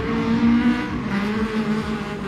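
A car engine drones and revs loudly close by, with a tonal whine and what sounds like tire squeal as the car is driven hard, no voices over it.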